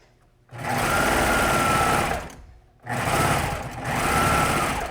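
A sewing machine stitches a jersey seam in two fast, loud continuous bursts separated by a short pause, the motor's whir steady and close.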